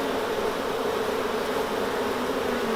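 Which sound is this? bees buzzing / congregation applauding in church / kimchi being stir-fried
bees buzzing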